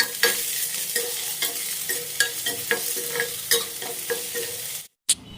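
Mixed dal fries in a hot pan with a spoon stirring through it, a steady sizzle broken by regular scraping strokes close up, then a brief silence and one last clatter at the end.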